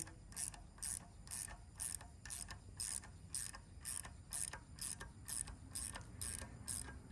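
A valve spring compressor tool being tightened down on a Gen 3 LS engine gives a steady ratcheting click, around two clicks a second, close and clear with no talk.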